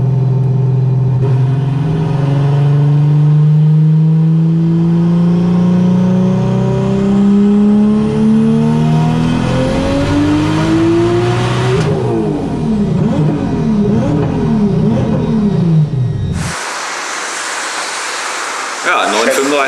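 A tuned Golf with about 1000 Nm of torque roars loudly, its pitch climbing steadily as it accelerates hard on a half-mile run, then shifts and revs again before cutting off abruptly.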